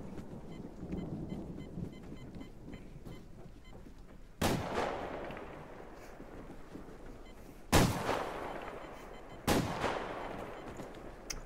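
Gunfire in the online shooter Survarium: three loud, sharp reports spaced a few seconds apart, each with a booming tail, over a low rumbling game backdrop.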